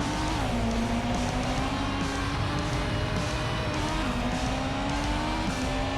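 Race cars pulling out of the pits in an F1 racing video game, a loud, continuous engine roar with rising and shifting pitch and some tire noise, no voices over it.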